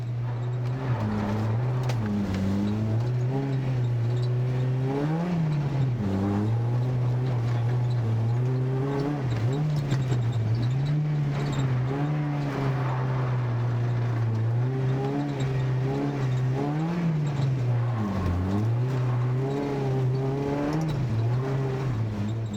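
Historic rally car from the Rallye Monte Carlo Historique 2012 being driven at regulated average speed on public roads, its engine droning steadily and loud throughout, with pitch rising and falling as the driver shifts and revs.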